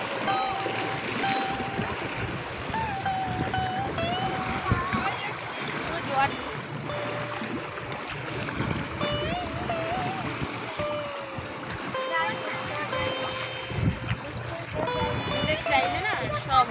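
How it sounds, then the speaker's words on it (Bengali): Waves on the Ganges river just as the high tide starts coming in, with wind blowing and boats moving; steady water wash and wind noise run throughout under continuous talking. "দেখো গঙ্গাতে সমুদ্রের মতো ঢেউ।"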